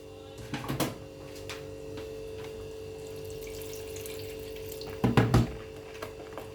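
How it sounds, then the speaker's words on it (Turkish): Water is poured from a glass into a bowl of kebab sauce made with fatty ground meat and oil, two short splashy bursts separated by a quiet stretch with a faint steady hum in the background. "bir buçuk su bardağı su koydum"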